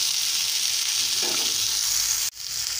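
Fish pieces frying in hot oil, a loud, steady close-up sizzle and crackle that continues throughout, briefly cutting out near the end before the hiss resumes.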